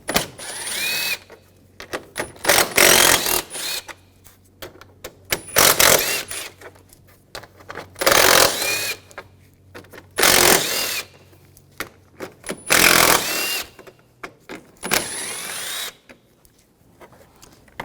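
A ratchet with a 10mm socket removes grille mounting bracket bolts on a 2013-2019 Ford Escape, giving repeated short bursts of rapid clicking with brief pauses between them, close and fairly loud.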